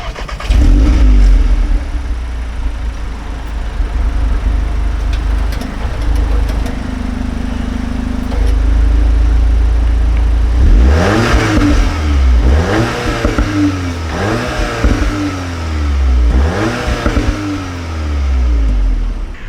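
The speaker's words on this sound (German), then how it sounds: "mach den Motor an und du filmst mal, wie sich das Auto anhört" A Cupra Formentor 310 PS SUV engine starts with a loud rumble and idles steadily, then revs repeatedly in sharp rising and falling bursts, close up with no talk.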